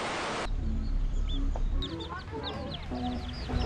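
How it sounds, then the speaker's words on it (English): Many chickens and roosters cluck and call across an outdoor area where the birds roam freely, a dense, continuous chorus of overlapping clucks and squawks at close to middle distance. "look at all those chickens"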